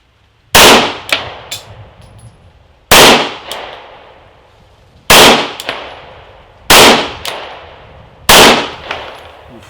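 Five loud, sharp shots from a Rex Zero 1 pistol firing PMC Bronze ammunition, spaced a couple of seconds apart outdoors, each with a ringing decay and echo.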